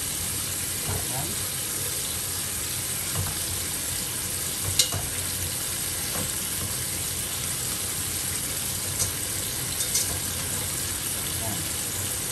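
Sea bass and vegetables frying together in a pan make a steady, even sizzle throughout, close and consistent, with a few faint clicks of utensils and a voice speaking over it at times.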